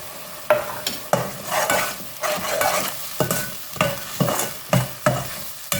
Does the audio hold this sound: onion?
yes